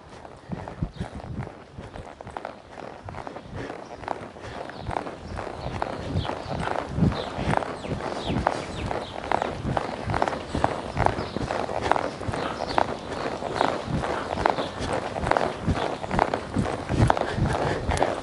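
A ridden horse moves along at an easy pace, its hooves striking in a continuous, steady rhythm close by with outdoor ambience and no voices.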